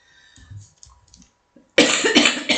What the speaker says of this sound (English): As soon as I start streaming, I start coughing again.